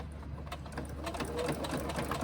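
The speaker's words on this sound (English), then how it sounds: "And sewing by the edge of this top piece, not by the edge of the card slots underneath." A sewing machine runs steadily, stitching along the edge of a fabric sling's top piece over card slots beneath, a continuous close motor whir with rapid needle ticking and no talk.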